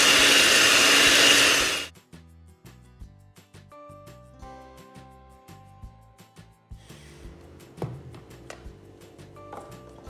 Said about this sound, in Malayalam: പിന്നെ 1 teaspoon വാനില എസൻസ് കൂടി വെച്ചിട്ട് എല്ലാം കൂടി ഒന്ന് ബീറ്റ് ചെയ്യാം